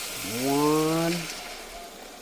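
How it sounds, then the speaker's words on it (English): Hot water pours from an emptied diced tomato can into a pot, a rising gurgling glug that climbs in pitch as the can fills, then trails off into soft background noise. "you save your can and you fill it up twice with hot water"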